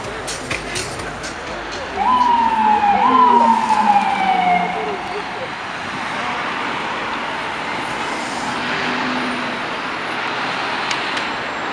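An emergency siren wails past with rising and falling tones over traffic noise, loud for a few seconds, then fading beneath the road hum.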